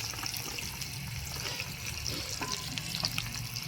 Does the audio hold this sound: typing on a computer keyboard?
no